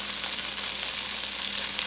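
Floured food sautéing and browning in a hot pan, a loud continuous sizzle and crackle of frying fat close up, with no voices.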